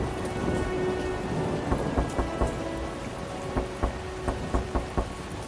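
Heavy rain pours steadily through a night thunderstorm, with a series of sharp, close thunder cracks and booms standing out over the constant hiss of falling water.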